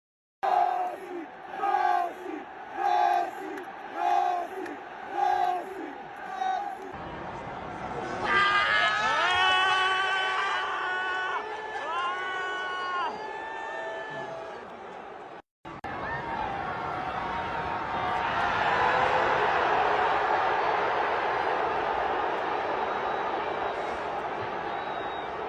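A football stadium crowd in the Saudi league chants Messi's name at Cristiano Ronaldo, rhythmic massed shouting at first, then a sustained roaring chant and cheering from thousands of voices.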